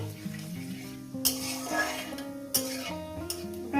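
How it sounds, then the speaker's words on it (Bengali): Cumin seeds spit in hot oil for tempering, a soft sizzle broken by a few sharp clinks of a spoon on the pan, with quiet music underneath. "দিয়ে দেবো জিরে ফোড়ন জিরে ফোড়নটা কয়েক সেকেন্ড একটু নাড়াচাড়া করে নেব কয়েক সেকেন্ড একটু ভেজে নেবো"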